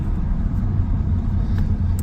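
A 1941 Mercury car drives along a road, giving a steady, loud low engine and road rumble from inside the cabin for the whole stretch, with no talking.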